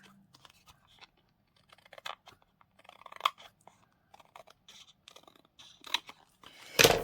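Scissors trimming a paper craft piece for a bell and ribbon project, a series of short, crisp snips and crunchy cuts, close and moderately loud, ending in a louder rustle of paper.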